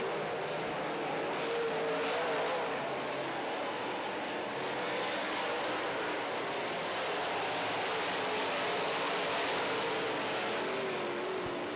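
Modified race cars roar around an oval track in a steady, loud, continuous engine drone that fills the whole stretch, with no talk over it.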